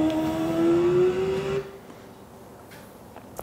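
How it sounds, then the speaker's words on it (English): A motorcycle at full throttle on the ThunderHill racetrack gives a loud, rising engine whine for about a second and a half, then cuts away to quieter wind and track noise, with no speech. "short shift with full throttle"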